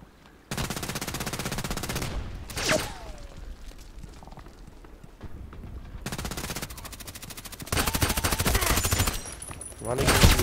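Automatic gunfire in the online shooter Contract Wars: long, loud sustained machine-gun bursts with a lull between them and a sharp burst near the end, up close.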